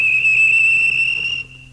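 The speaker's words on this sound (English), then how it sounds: "the whistle blew, and James thought they'd better go" Steam engine whistle on a storybook railway station platform, a single loud, steady, high-pitched tone held for about a second and a half before cutting off abruptly.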